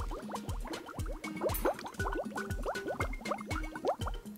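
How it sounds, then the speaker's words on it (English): Fizzing tablets bubbling through water and oil in a homemade lava lamp, a close, quiet run of rapid popping bubbles and gurgles in an irregular rhythm, with no voices. "the fizzing tablets bubble up the water and we get this beautiful result"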